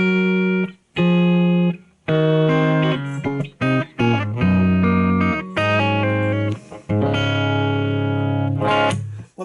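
A distorted electric guitar, dialed in through a BOSS eBand with chorus, delay and reverb, plays a riff of sustained notes and chords broken by short gaps.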